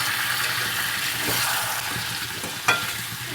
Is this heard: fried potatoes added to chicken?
yes